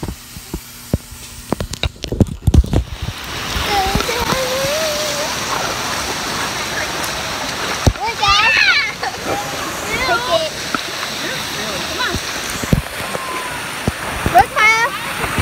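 Water splashes and rushes continuously at a water park, with occasional sharper splatters, while people's voices and shouts carry over it throughout.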